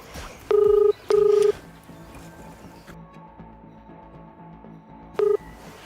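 Three loud electronic telephone ring tones on a call, two close together and a third after a pause, with quiet background noise between them and no talking.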